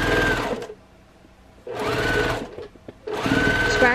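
A sewing machine stitches seams of a table runner in bursts: a loud steady whir for half a second, a pause, then two more longer runs, close and alone.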